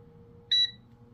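A Tower T17076 Xpress Pro Combo 10-in-1 air fryer gives a single short, clear electronic beep as it is switched on, heard alone over a faint steady hum.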